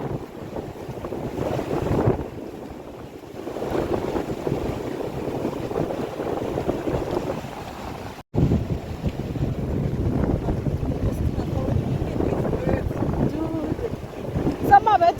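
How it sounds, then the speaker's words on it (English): Wild ocean surf and gusting wind at Bloubergstrand beach in Cape Town: a loud, rough roar of breaking waves with heavy wind buffeting the microphone, surging and easing over about fifteen seconds, with a brief dropout near the middle. "The ocean is wild at this point."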